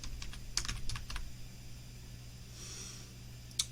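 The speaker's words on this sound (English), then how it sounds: "type in Neopixel" Typing on a computer keyboard while entering a library name in a code editor's library manager: a quick burst of close key clicks in the first second, a pause, then one more sharp keystroke near the end over steady electronic hum.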